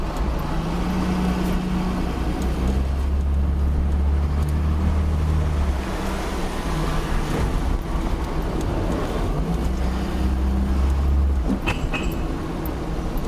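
BMW E30 with a ZF 4HP22 automatic gearbox cruising through a small quiet village, a continuous low engine drone with road and wind rush, the engine note rising and falling slightly between gear phases.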